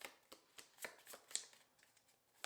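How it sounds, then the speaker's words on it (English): A deck of tea leaf oracle cards is shuffled close up: a quiet run of short papery riffles and snaps, some six or seven brief bursts spread unevenly over a couple of seconds, with no voices. "let me just shuffle this final little deck I have, a pile of the tea leaf cards"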